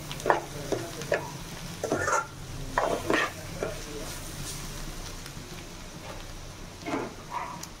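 Egg bhurji sizzles steadily in a pan while a spatula stirs and scrapes it in repeated close strokes, with the frying hiss running underneath throughout.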